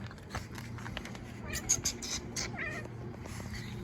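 A female house cat meows several times up close, the calls rising over a low background hum with some faint movement noise.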